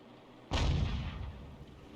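An M44 self-propelled artillery gun fires once in a video game: a single sharp, loud blast halfway through, followed by a decaying rumble and echo.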